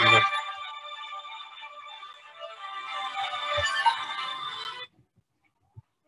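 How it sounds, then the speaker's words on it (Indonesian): A phone ringtone plays for nearly five seconds, a bright repeating electronic melody, fairly close and loud, then cuts off abruptly into near silence with a couple of small clicks. "Sebentar ya, saya jawab telepon dulu."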